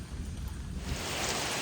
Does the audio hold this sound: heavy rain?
yes